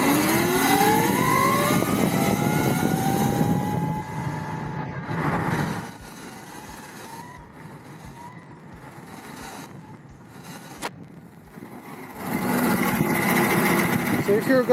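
Rising electric whine from a Havoc 32kW electric motorcycle being ridden outdoors in Baja, Mexico, climbing in pitch as it accelerates over steady wind rush, then easing off before the whine and wind swell again.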